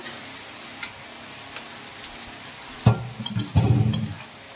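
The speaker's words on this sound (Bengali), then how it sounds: "একটু নাড়াচাড়া করার পর তারপর পেঁয়াজ কুচি দিয়ে দিচ্ছি এই তেলে।" Chopped onions go into hot oil after a quiet stretch, bringing two sudden bursts of sizzling that settle into a steady, close frying hiss near the end.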